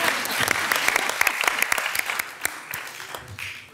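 Scattered applause from attendees at a city council meeting, a few seconds of moderate, uneven clapping from a small room audience, fading slightly at the end.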